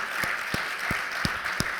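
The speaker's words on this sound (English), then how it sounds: "So big applause to the panelists" Applause from a conference audience for a panel, steady clapping with a few sharper claps standing out, fairly close and continuous throughout.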